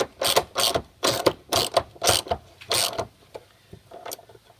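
A ratchet tightens a bolt on a rear seat recline spacer bracket of a 2007-2016 Jeep Wrangler, with six close, loud bursts of rapid clicking followed by a few lighter, scattered clicks.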